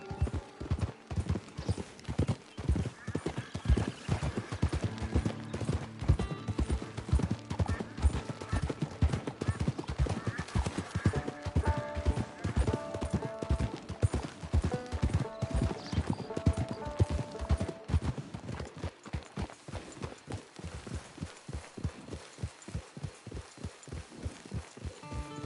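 Steady horse hooves clip-clop at a brisk, even rhythm in Red Dead Redemption 2 Online, close and moderately loud, continuing for the whole stretch with faint background sounds.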